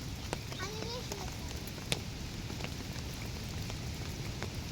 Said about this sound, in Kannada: ಮಳೆ ನೋಡಿ ಇವಾಗ ಬರ್ತಾ ಉಂಟು